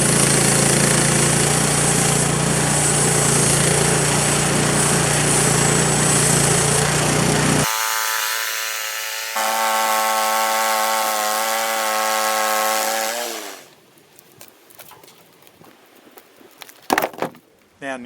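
An oak log is cut on a sawmill with a loud, steady grinding roar from a power saw, which gives way to a lower machine hum that winds down into quiet clunks.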